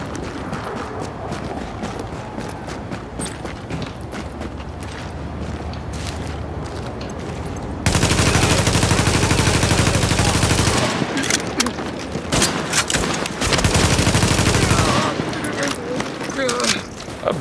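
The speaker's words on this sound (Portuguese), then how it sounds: "O tiro dela é rápido, essa arma." Bursts of rapid gunfire in The Division, long dense volleys of shots with brief pauses between, loud and close, and a voice talking at times.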